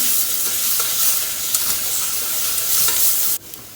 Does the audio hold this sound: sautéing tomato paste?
yes